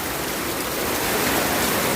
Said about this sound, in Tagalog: Grabe yung ulan. Lakas, di na tumitigil.